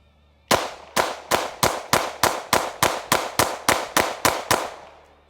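A Shadow Systems MR920P compact pistol fires thirteen sharp, evenly spaced gunshots in quick, steady succession, each a loud close crack with a short decay, and the last report trails off into quiet.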